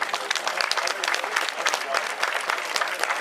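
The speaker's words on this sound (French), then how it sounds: "sous les applaudissements du public de Ploué" A crowd at the Plouay women's cycling World Cup final applauds steadily and loudly, dense clapping continuing throughout without a break.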